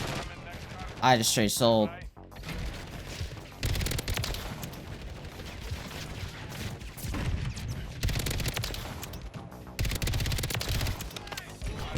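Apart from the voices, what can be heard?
FJX Horus gunfire in video game Call of Duty MW3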